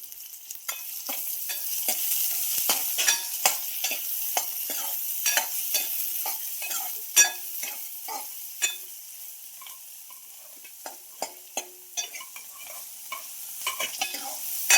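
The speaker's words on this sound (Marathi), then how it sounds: "आता कांदा टाकते लाल मिरच्या टाकायच्या आहेत पण तेल गरम झालेलं जास्त" Chopped onion sizzles in hot oil with mild red Kashmiri chillies, a steady frying hiss broken by frequent scraping clicks of a spoon stirring the pan. There are no voices.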